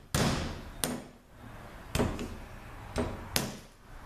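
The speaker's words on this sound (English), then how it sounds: "pretty much just need a sharp chisel and a hammer" A hammer drives a sharp chisel against the covers of a 5R55S transmission solenoid pack, producing five sharp, close metallic knocks in an uneven rhythm, each ringing off briefly.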